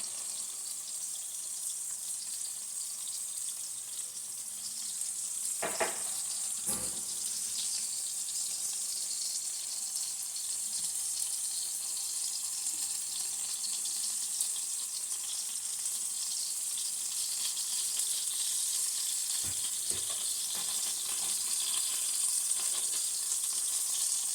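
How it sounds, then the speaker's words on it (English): A sous vide pork tenderloin searing in a hot pan on a stovetop, a steady close sizzle throughout, broken by a couple of brief knocks. "I'm just searing it up."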